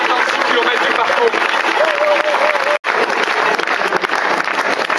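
Audience applause at an outdoor award ceremony podium after a 156 km race, sustained dense clapping from a crowd with a brief cut near the middle, loud and close.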